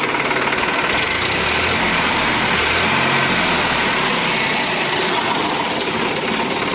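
A Sonalika DI 745 tractor's diesel engine idles steadily nearby, a continuous low rumble with a rough, knocking texture and no voices.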